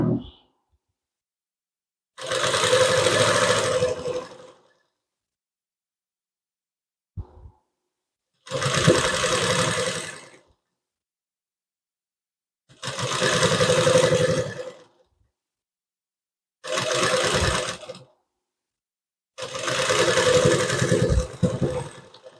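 A sewing machine stitches piping onto a blouse neck in five separate bursts of close, fast, buzzing running, each a second or two long with silent pauses between, no voices heard.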